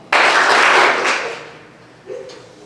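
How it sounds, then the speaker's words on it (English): Crowd at a school awards assembly bursts into a short, sharp round of applause that fades within about a second, followed by a faint brief voice. "please give them the power clap"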